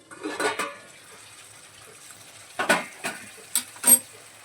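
Lid lifted off a cooking pot of potato dum, a few close metallic clinks and clatters separated by quiet pauses.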